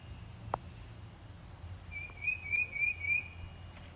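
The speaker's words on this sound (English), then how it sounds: "Love the bird." A bird sings outdoors beside a Big Green Egg grill, a thin, high warbling chirp in the middle distance lasting a couple of seconds over a quiet low background hum.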